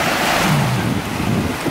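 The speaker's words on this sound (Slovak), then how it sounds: "No tak sme opäť na pláži." Ocean waves wash onto a beach in Sicily, a loud, continuous roar of surf mixed with heavy wind buffeting the microphone, with no talking.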